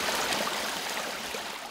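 Cold, clear water flows steadily down a mountain stream in a primeval forest, a continuous close rushing wash with no break or voices.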